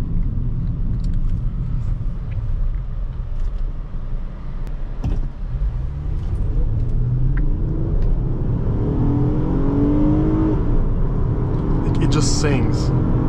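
A 2010 Honda Accord EX-L V6 climbs hard through the revs, its engine rumble building into a rising, sweeping tone toward the end, heard from inside the cabin.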